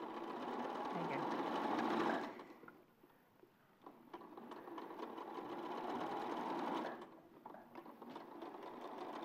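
Sewing machine stitching the leg and tail of a soft toy, a close steady whir in two runs with a pause between, while people talk.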